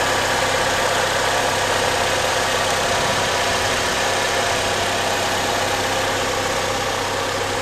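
A 2003 Chevrolet Cavalier engine idles steadily and loudly up close just after starting, a continuous even rumble with a faint rattling vibration and no talking.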